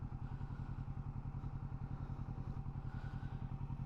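A motorcycle engine holds a steady RPM during a slow U-turn around a cone, with a close, even pulsing putter that stays constant throughout.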